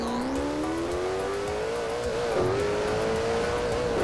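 A car in the Garry's Mod video game, the Lunamobil, drives and drifts downhill, its engine note droning steadily and climbing gradually in pitch, with a brief dip as the car slides, loud and continuous with no talking.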